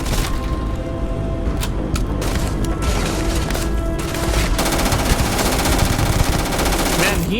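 Rapid automatic gunfire from the Starfield video game, dense sustained bursts of shots and cracks running loud and close throughout with no pauses.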